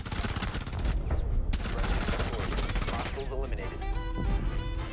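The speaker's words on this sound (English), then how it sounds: "Just hip fire him. I'm gonna hip fire him." A fast string of hip-fire gunshots cracks in Rainbow Six Siege, followed by sparser shots and in-game clatter, with a player talking over the action.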